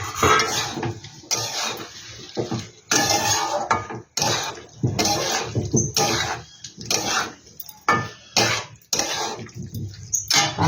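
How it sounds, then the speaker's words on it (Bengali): Fried shrimp, potato and young jackfruit are tipped into a pan and stirred hard, with repeated metallic scrapes and clatters of spoon on pan coming in steady bursts across the whole stretch. "চিংড়ি মাছ, আলু আর ইঁচড়, সেটাকে আমি দিয়ে দিচ্ছি। এটার সাথে এটা ভালো করে কষাবো।"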